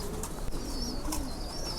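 Pigeons cooing outside as a storm blows in, soft low coos and a couple of higher calls over steady wind-like background hiss, moderately distant with no voices.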